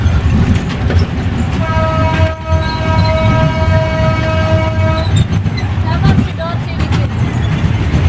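An amusement park train ride rumbles steadily and close. A sustained multi-tone horn blares for several seconds before the running noise carries on alone.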